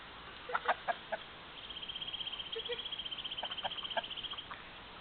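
Chickens and a rooster cluck in a yard, starting with a few sharp squawks and then settling into a steady run of soft, rhythmic clucking, with a faint thin whine heard under it throughout.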